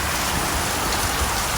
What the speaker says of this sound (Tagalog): Guys, sobrang lakas ng ulan.